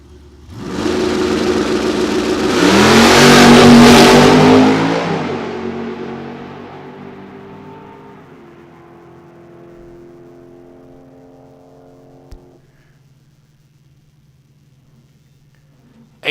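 A 2006 Dodge Charger Hemi blasts down the drag strip in a loud, rising roar that peaks within seconds, then fades into a distant receding drone and stops, leaving near silence.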